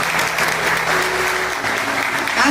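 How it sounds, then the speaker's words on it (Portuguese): A church congregation at a communion service applauding together, a dense, steady wash of clapping from many hands that holds at an even level throughout. "Aplauda o Senhor pela sua palavra poderosa."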